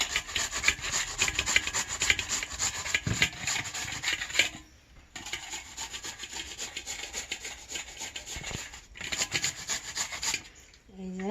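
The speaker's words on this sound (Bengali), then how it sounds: "আমি এখন গেটার মেশিন দিয়ে গ্রেট করে নেব আমরা আমগুলো এখন গ্রেট করে নেব" Raw mangoes are rubbed against a hand grater in fast, rhythmic rasping strokes, loud and close, with two brief pauses before the scraping resumes.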